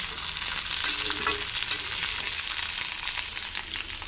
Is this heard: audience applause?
no